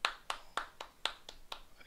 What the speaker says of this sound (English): Clapping for you, Valve,